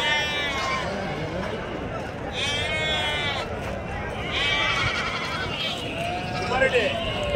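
Goats and kids bleat repeatedly at a busy weekly goat market, their calls overlapping near and far while people talk over the crowded scene.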